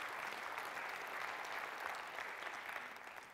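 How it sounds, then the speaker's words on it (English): A conference audience at an annual college association gathering gives a warm round of applause, steady dense clapping from a large crowd that fades slightly at the end. "can we just give them a nice warm round of applause again to say thanks"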